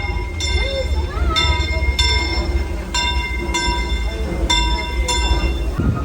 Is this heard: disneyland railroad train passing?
yes